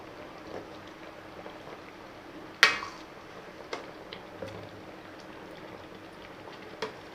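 Lentil-ball curry with coconut paste bubbles gently in a pot, soft steady popping and simmering close by, with one sharper clink partway through.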